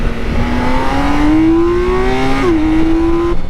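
A heavy six-cylinder touring motorcycle engine rises steadily in pitch as it pulls, then drops briefly on a gear change and climbs again, loud and close with a smooth, even drone.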